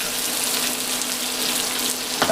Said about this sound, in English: I'm just going to let that melt, get the butter foaming